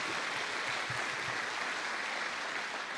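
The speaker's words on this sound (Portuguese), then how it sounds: "Dê um aplauso a Jesus" Steady church congregation applause fills the whole stretch at an even, moderate level, with no pauses and no voices standing out.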